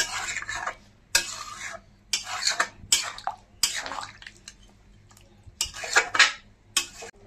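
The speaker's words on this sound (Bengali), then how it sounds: "আবার একটু ভালো করে নাড়িয়ে চাড়িয়ে নিচ্ছি।" A spoon stirs chicken Maharani curry in a metal pot after hot water is added, giving about eight separate scraping, sloshing strokes with short pauses between them, close and moderately loud.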